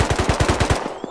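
Rapid automatic gunfire from a video game set on a crowded survival raiding server, about eight loud, evenly spaced shots in a quick burst that stops abruptly, followed by a couple of fainter distant pops.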